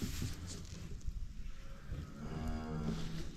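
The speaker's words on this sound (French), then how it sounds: "J'ai emmené la vache." A beef cow on a farm with her young calves gives one long, clear moo that rises partway through, heard fairly close over a quiet outdoor background, with no talking.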